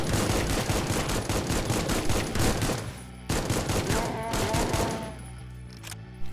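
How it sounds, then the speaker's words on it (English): Rapid bursts of automatic gunfire fill a shooting gallery in the game Supplice, loud and dense for about three seconds, then a brief pause before more sustained firing that tapers into a few scattered shots. "There's our shooting gallery to demonstrate gun."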